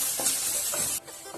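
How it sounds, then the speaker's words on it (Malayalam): Chopped onions sautéing in a pan until browned, a steady close sizzle and hiss with a few soft stirring scrapes, cutting down sharply partway through. "ഉള്ളി ബ്രൗൺ നിറമാകുന്നത് വരെ ഒന്ന് വഴറ്റി കൊടുക്കുക."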